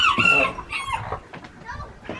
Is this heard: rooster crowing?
yes